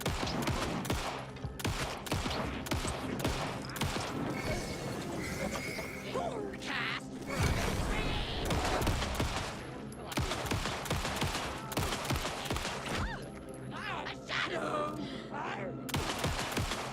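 Gunshots in the survival horror video game Alan Wake 2, repeated sharp shots and loud bursts amid dense game sounds, with a person talking over them.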